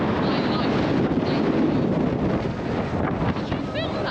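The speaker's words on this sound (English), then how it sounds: "It's so windy up here." Strong wind buffets the microphone at the Hyde Park Winter Wonderland in a steady, loud rush that barely lets up, with a faint voice briefly under it.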